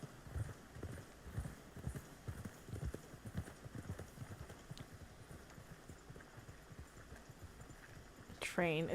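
Horse hooves clip-clop at a steady walking rhythm in Red Dead Redemption 2, close and fairly loud, with someone talking over them and a brief brighter sound near the end.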